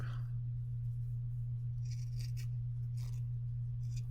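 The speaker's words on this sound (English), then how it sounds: "I'm actually gonna cut like circles out of them" Scissors snipping circles out of paper for a craft journal page, a few quiet, brisk cutting crunches in short bursts over a low steady hum, close by and soft.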